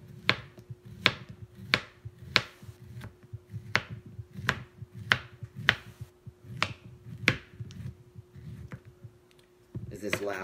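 Knife chopping food on a cutting board while cooking a HelloFresh meal, a steady series of sharp, close knocks at an even rhythm, with low voices murmuring underneath and a brief rustle at the end.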